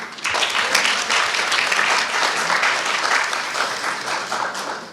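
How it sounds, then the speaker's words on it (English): An awards-night crowd at a community academy ceremony gives a round of applause for an MP, continuous dense clapping from many hands, steady and fairly loud throughout. "Another round of applause for the MP."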